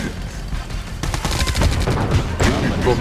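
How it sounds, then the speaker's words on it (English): Gatling cannon fire in the Yuri's Revenge strategy game, a steady dense stream of rapid, overlapping gunfire bursts that builds from about one second in and keeps going loud, with other battle sounds mixed in. "Come forward to die to your Gatling cannons."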